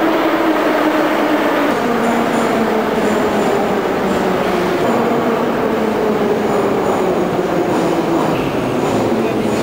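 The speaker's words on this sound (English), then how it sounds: "Trains go by once every minute." A train rolls past in Moscow, with a loud, steady rail roar and rumble up close, faint wheel squeals and clatter, and voices murmuring underneath.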